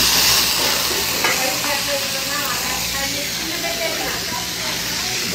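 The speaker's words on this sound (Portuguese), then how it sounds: "vamos grelhar o filézinho agora" Beef fillet sizzles and crackles on a restaurant grill with garlic, a steady broad hiss with scattered pops that fills the whole stretch, close and fairly loud, with indistinct kitchen voices in the background.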